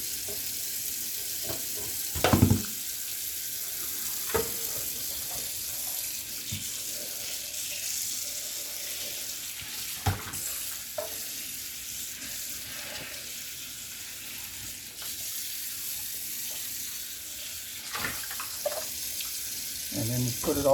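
Tap water runs steadily as Instant Pot parts are rinsed in a kitchen sink, a soft continuous hiss broken by a few brief clatters and knocks of handled parts.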